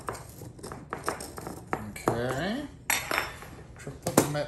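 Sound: knife run around the edge of a cake pan

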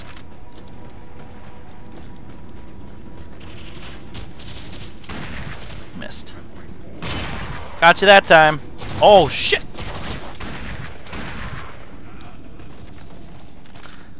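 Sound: hand cannon gunfire in the video game Warframe

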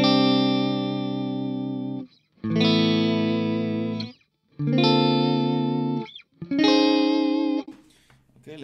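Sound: electric guitar through Garland SoT50 amp, bright switch right position

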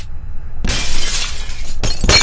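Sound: glass shattering in the video game Happy Wheels

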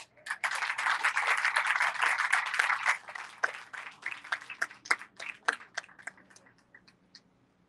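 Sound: applause

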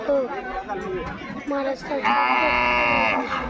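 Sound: bull mooing

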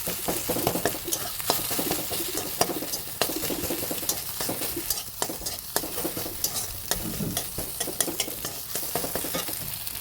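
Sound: egg frying in a pan

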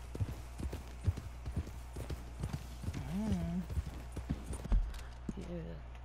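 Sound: horse hooves clopping, Red Dead Redemption 2 video game

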